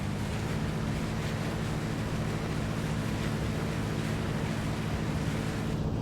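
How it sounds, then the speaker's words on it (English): A powerful boat engine running on open water, a steady loud drone blended with rushing water and wind noise throughout, with no break in the sound. "It's a very powerful engine."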